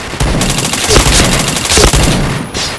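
Rapid bursts of gunfire from a shooting video game, dense and loud, with automatic fire running almost continuously throughout.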